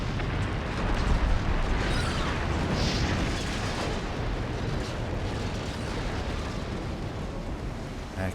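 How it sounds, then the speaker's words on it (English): Warship magazines detonating fore and aft in the naval battle game Ultimate Admiral: Dreadnoughts, a sustained, rumbling roar of explosion that swells early and lingers for several seconds with dense crackling, no voices over it. "Looks like we'll get both forward and aft ammo detonation."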